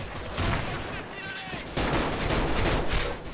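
Gunfire in a first-person shooter game, a dense stretch of rapid shots and impacts running the whole moment, loud and close, with a louder burst in the second half and faint game noise around it.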